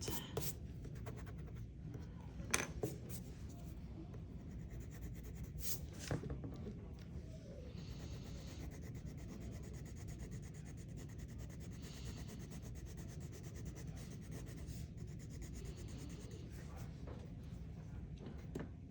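Crayon being colored onto paper in steady, even strokes, a soft continuous scratchy rubbing that runs quietly throughout with no talking.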